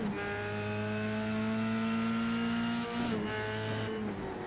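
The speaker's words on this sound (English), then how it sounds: "Listen to those tires." F3 race cars in a GT Champions Cup round scream past on track, a loud sustained high-revving engine note with harmonics that dip and recover as gears change, tires squealing through the corner near the end.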